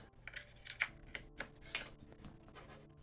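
Typing on a computer keyboard while setting up for Minecraft play, a quiet, irregular patter of close key clicks with a few sharper taps and no voice.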